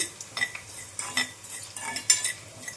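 Fenugreek and mustard seeds roasting in a pan on low heat are stirred with a metal spoon, giving a run of light, uneven scraping and clinking close by over a faint hum.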